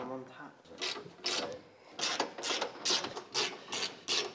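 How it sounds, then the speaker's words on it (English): Ratchet wrench tightening bolts on the cross brace of a two-piece driveshaft under a 2014-2018 4x4 Chevy Silverado, a series of brisk clicking rasping strokes in repeated bursts, close and fairly quiet. "go ahead and tighten up all of the bolts, except for the two on this center one"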